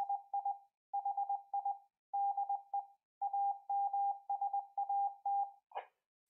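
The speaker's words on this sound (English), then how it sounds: "the first thing it's going to transmit in a CW ID in Morse code" A CubeSatSim Lite satellite simulator transmitter sends a Morse code CW identification as a steady single-pitch tone, keyed into crisp dots and dashes in regular groups, clear and isolated, ending with a short click.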